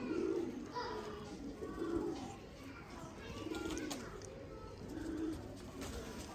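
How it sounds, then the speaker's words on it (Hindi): Sialkoti black-faced breeder pigeons coo close by, repeated low rolling coos in a loose rhythm every second or so. "सियालकोटी काले मुँह वाले कबूतर, शेखा वाले कबूतर"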